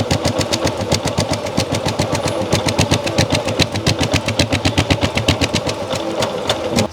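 A Royal Enfield Classic 350 motorcycle converted to belt drive idles loud and close, its single-cylinder engine thumping in a fast, steady beat throughout.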